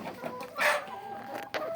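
Chickens in a flock of about two hundred cluck and squawk on a rainy day, several short calls close by, one louder burst standing out among scattered softer clucks.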